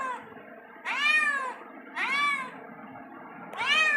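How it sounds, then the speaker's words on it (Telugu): A house cat meows three times, close and clear, with short pauses between each call and no talking over them. "మియావ్ అంటది."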